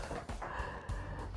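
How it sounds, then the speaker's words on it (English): Sniffling from a cook whose eyes and nose are running after cutting onions while making Bajan seasoning, a few short nasal snorts and breaths close to the mic. "So excuse the sniffling if you hear me sniffling."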